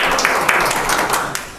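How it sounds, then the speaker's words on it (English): Audience applause at a city schools board meeting, a short burst of dense, steady clapping from a room of people, close and fairly loud. "Thank you, and give a round of applause."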